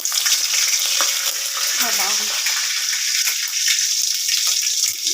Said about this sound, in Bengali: এখন এগুলোকে আমি কিছুক্ষণ ভাজবো